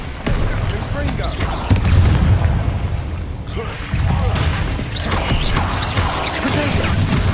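Fiery Confringo spell blasts in the Hogwarts Legacy video game, bursting repeatedly as loud crashing booms over continuous combat noise, with shouted spell incantations throughout.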